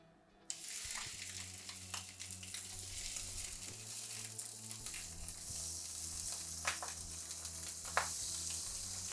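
Bacon sizzling and frying in a little oil in a pan for a dirty burger, a steady crackling hiss that starts abruptly and holds loud and close throughout, with low kitchen hum beneath and a few sharper pops.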